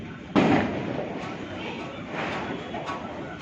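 Firecracker bursting, one sharp close bang followed by a rolling crackle and a few fainter pops, with voices murmuring in the background.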